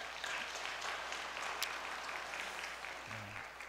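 An audience at a church service gives a round of applause of thanks to company staff, with steady, fairly distant clapping that carries on throughout and a faint low hum in the background.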